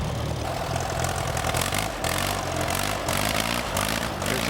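Antique tractor engine running steadily at a tractor pull where collectors drag a weight sled, a loud continuous mid-pitched chug with rhythmic pulsing and revving swells throughout.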